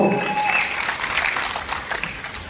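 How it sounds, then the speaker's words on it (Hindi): Audience applause at an educational business seminar in Lucknow, continuous clapping at moderate volume, with a faint tonal whistle or voice over it early on. "जोरदार तालियां उनके साथियों"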